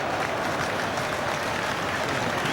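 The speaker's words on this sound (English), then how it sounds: "No wonder the crowd are applauding this." Football crowd applauding during a Barcelona match, a steady, dense wash of clapping and crowd noise that holds at an even level throughout, with no clear voices standing out.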